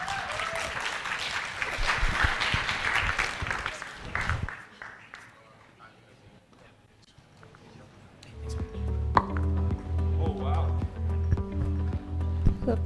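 An audience at a student conference applauds for about four seconds, a dense clatter of many hands, then it fades to a quiet room with some shuffling before music with a steady low beat comes in.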